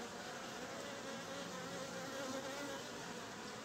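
Honey bees swarm around an opened beehive, making a dense, steady drone of many wings that holds at an even, moderate loudness with no talking.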